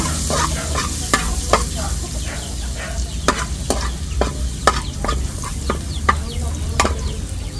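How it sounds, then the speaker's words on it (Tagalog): Chopped garlic sizzles steadily in a hot pan as spaghetti sauce is started, with sharp spatula scrapes and taps repeating every half second or so over the continuous frying hiss, close and fairly loud, no talking. "lalagay na po natin yung bawang"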